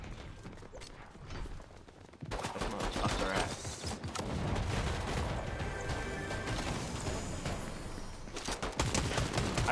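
Dense, sustained gunfire from the video game Fortnite Chapter 5, loud and continuous after a short, quieter opening, with overlapping bursts, rapid shots and crashing impacts packed together.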